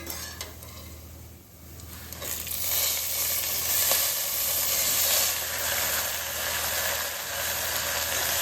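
Eggplant and potatoes sizzling in hot oil with dal vadi in a pan, a steady soft hiss of frying with faint stirring scrapes, continuous and fairly quiet without talk.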